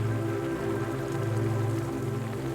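Steady rain falls on a city window at night, a soft continuous patter and hiss with an even, unbroken texture and no voices.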